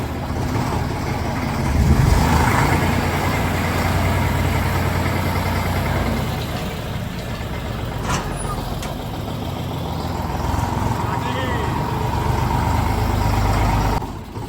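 A fully loaded tractor's engine idles nearby at night with a continuous low rumble and a faint hiss of air, holding steady with small swells; no one speaks.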